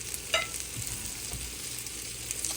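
A small amount of oil sizzling in a frying pan while breakfast is cooked, a soft steady crackle with a few sharper pops and light scraping, close and alone without speech.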